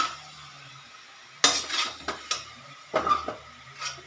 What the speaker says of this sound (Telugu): ఒక నిమిషం అయిన తర్వాత నేను మళ్ళీ ఇలా కలుపుతానండి